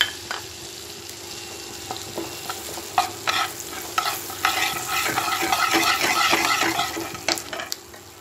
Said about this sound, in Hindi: गरम हो रहा है बटर, तो हम इसमें सरसों और जीरा पहले डाल देंगे